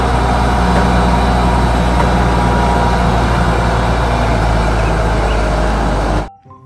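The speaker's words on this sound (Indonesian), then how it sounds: "Eksavator besar." A large toy excavator sends out a loud, steady, low engine hum with no breaks, like heavy machinery idling, lasting over six seconds before ending suddenly.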